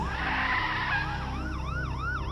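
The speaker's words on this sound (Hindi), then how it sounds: "पीछे से पुलिस की गाड़ी सायरन बजाते हुए आती है" Police car siren wailing in a rising and falling sweep over a rumbling vehicle, loud and steady throughout the brief moment, with no voices.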